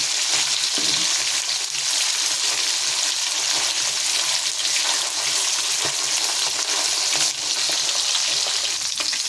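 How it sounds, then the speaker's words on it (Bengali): Fish frying in hot oil sizzles and crackles steadily and loudly throughout, a dense close-up spatter with occasional faint stirring sounds and no voices. "দেখুন এরকম করে ভাজতে হবে মাছটা"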